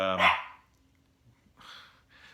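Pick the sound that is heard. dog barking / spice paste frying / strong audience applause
dog barking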